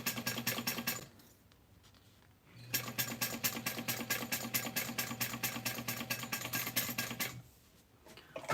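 A sewing machine stitches glitter vinyl for a clutch, running in fast steady bursts with a short pause for a back stitch, then a long continuous run before stopping and starting again near the end.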